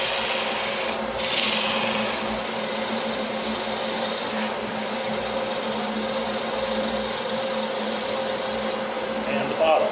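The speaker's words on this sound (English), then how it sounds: "so that's the sanding portion" Steady fine-grit sanding on a green wood bowl on a lathe, a continuous soft rubbing hiss with a motor hum beneath, briefly pausing a few times.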